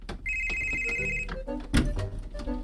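A telephone rings indoors with a bright, steady electronic trill lasting about a second, followed by knocks and household clatter nearby.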